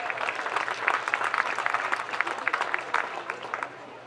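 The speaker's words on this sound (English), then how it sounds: "Can we give a big round of applause to Mick Cave and Bradley Steer?" A crowd at a sidecar speedway championship in Leicester applauds steadily with dense, crackling claps that stay loud for several seconds before thinning toward the end.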